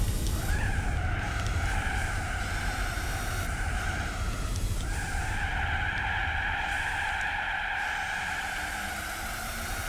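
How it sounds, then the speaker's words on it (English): Tires screech in long, loud skids as a car drifts around a corner in Gran Turismo 4, the squeal rising and falling in two sustained stretches over engine noise. "we just kept drifting round"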